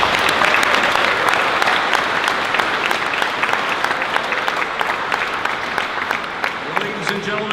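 A warm round of applause from an audience at the Heroes Among Us honors event rolls on steadily and loudly, sharp individual claps standing out, with a voice starting up near the end.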